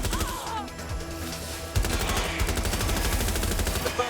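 Dense automatic gunfire in the Watch Dogs Legion video game, fast repeated shots that intensify partway through and continue steadily, loud and close over a game soundtrack.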